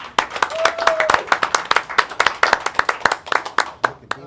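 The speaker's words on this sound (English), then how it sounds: "Round of applause for Isaac." A small audience claps for Isaac, a loose run of sharp individual hand claps at a quick uneven rhythm, fairly close, with a brief vocal whoop early on.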